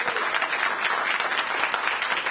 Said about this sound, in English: can I get a nice round of applause for all of these wonderful students here?